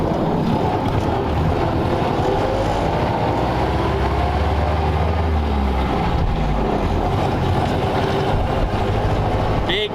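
A 1932 Ford Roadster's 4-cylinder engine pulls hard in first gear, a loud steady low drone with rising whine and road rumble heard from inside the car.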